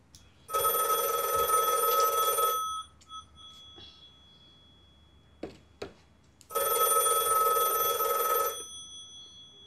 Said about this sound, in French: le téléphone va sonner et on va entendre qui on a au bout du fil.